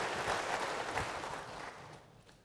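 A church congregation claps together, a dense patter of many hands that is fairly loud at first and then gradually fades over a couple of seconds.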